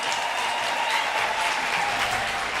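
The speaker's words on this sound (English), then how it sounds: "Another round of applause to yourselves" Dinner guests at the inaugural Women in Healthcare Caucus Kenya dinner applaud steadily, a dense even wash of clapping from a large room that holds at the same level throughout.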